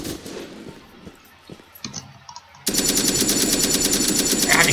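Weapon fire in the video game Red Crucible Firestorm: scattered shots and clicks at first, then a loud sustained burst of rapid automatic gunfire that continues to the end, with no speech.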